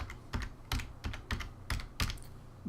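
Typing on a computer keyboard, close and clear, with about half a dozen distinct clusters of key clicks spaced irregularly and no one speaking.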